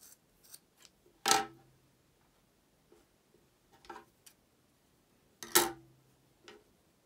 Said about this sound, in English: then I just trim it